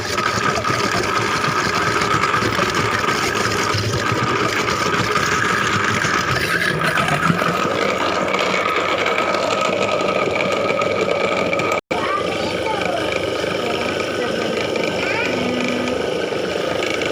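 A blender grinds meat for bakso meatballs with a loud, steady motor whir and buzz that runs continuously, cutting out for an instant near the end before resuming.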